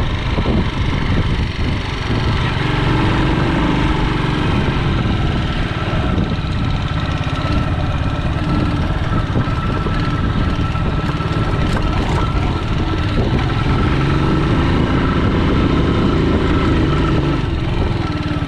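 A motorcycle engine drones steadily as the bike climbs a hill in third gear through a pine forest, a loud, continuous mid-pitched hum with no speech over it.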